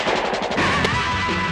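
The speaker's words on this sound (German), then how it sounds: "War es ein Streifschuss, war es ein echter Schuss?" Gunfire from the 1970 WDR television play Das Millionenspiel, a loud, dense burst of crashing shots and impacts filling the short moment before a ringing tail fades out.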